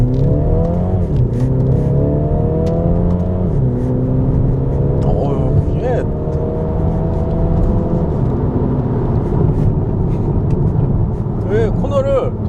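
A 2022 MINI Countryman Cooper S ALL4 accelerates hard, its engine note climbing through rising gear sweeps with a brief drop at each shift, loud and close from inside the cabin, while someone talks briefly over it.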